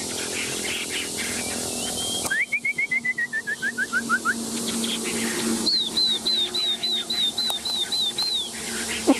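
A caged songbird sings close by in clear, repeated whistled phrases, each a quick series of descending or rising notes, with short pauses between bursts over a steady background hiss.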